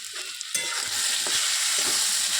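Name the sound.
stir-frying radish and potato with spices in a pan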